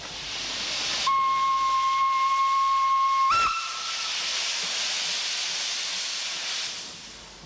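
A steam locomotive lets off a steady, loud hiss of steam, with a clear whistle tone sounding for about two seconds before cutting off sharply, after which the broad hiss continues alone.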